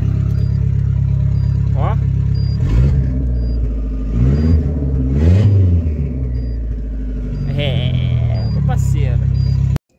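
A Fiat Tempra Stile 2.0 8V turbo with a large intercooler runs nearby, its engine rumbling and revving while a thin turbo whistle rises above it, with someone talking over the sound.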